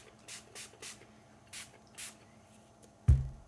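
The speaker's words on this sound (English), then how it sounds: "Give everything a little spritz." A spray bottle spritzes water onto a painting in a run of short, crisp hissing bursts, five or six quick sprays close by, followed by a soft thud at the end.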